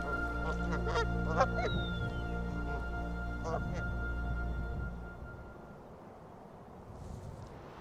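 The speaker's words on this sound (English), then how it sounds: "While this goose is nesting, the gander will remain close by to protect her and their clutch of eggs." A nesting goose honks repeatedly at close range in a prairie wetland during spring migration, with several loud calls in the first half before things settle to quieter outdoor ambience.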